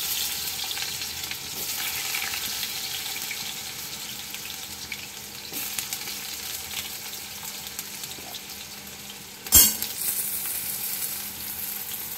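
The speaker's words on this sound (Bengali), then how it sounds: "তো আলুটা লাল করে ভাজা হয়ে গেছে" Potatoes fry in a pan with a faint, steady sizzle that continues throughout. One sharp clank of a utensil near the end stands out against the quiet frying, and no one speaks.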